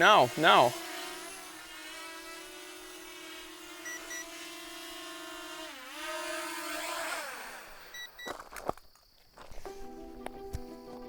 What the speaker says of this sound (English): This drone was just flying in circles, trying to chop me up